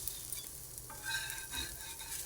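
Rava dosa batter sizzles on a hot griddle pan, a steady close frying hiss with faint stirring or scraping touches and no talk.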